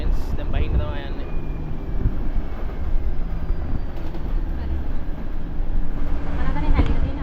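A tram runs through a city in Serbia with a steady rumbling roll and wind noise close to the microphone, a faint squeal of wheels on rails and occasional voices underneath.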